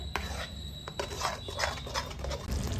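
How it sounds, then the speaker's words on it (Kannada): Ground masala paste frying in a pan for a Kannada-style egg curry, with steady close sizzling and spatter broken by scraping and clinking of a utensil against the pan. "ಚೆನ್ನಾಗಿ ಫ್ರೈ ಮಾಡ್ಕೋಬೇಕು ಮಸಾಲೆನ"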